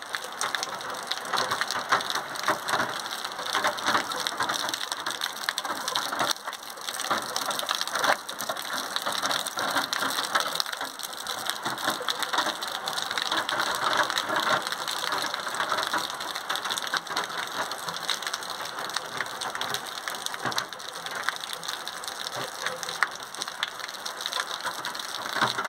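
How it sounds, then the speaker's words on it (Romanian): Steady rain falling after a long dry summer, a dense continuous patter with a crackling texture, moderately loud and unbroken, with no talk. "Plouă în continuare."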